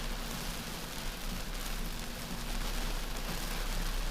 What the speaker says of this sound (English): A lot of rain falling right now.